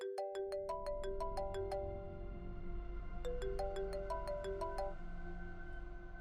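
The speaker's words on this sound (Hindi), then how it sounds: "Madam ji phone." A phone ringtone plays a bright repeating melodic phrase, twice in succession, clear and steady over a quiet background, with no talking.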